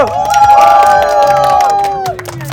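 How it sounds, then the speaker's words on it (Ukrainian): Crowd at a resort camp opening party cheers and claps for a hookah master, with shouts and whoops rising over a steady roar of applause, close and loud, with tonal voices trailing through. "Кальянному майстру оплески для початку"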